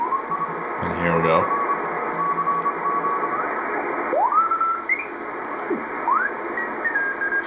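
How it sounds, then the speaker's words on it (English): Shortwave receiver tuning across the lower 15 meter amateur band near 21 MHz, with steady hiss and static, sweeping whistling tones and brief warbling signals sliding past as the dial moves. "So this is the lower part of the 15 meter amateur radio band."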